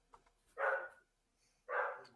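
A dog barks twice at close range, two loud, full barks about a second apart, with quiet gaps around them and no speech.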